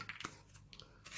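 A CRKT Offbeat knife blade cutting, heard as a quick series of faint, close, crisp slicing and tearing strokes in near silence.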